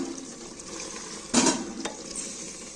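Chicken masala with salt sizzles gently in a pan, a steady low frying hiss broken by a sharp scrape of a spoon stirring against the pan and a lighter clink just after.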